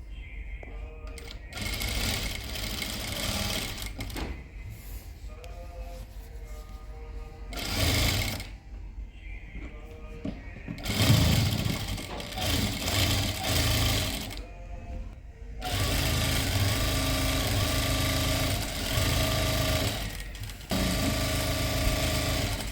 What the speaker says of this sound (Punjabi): ਇਦਾਂ ਰੱਖ ਕੇ ਅਸੀਂ ਇੱਥੋਂ ਸਲਾਈ ਸ਼ੁਰੂ ਕਰਾਂਗੇ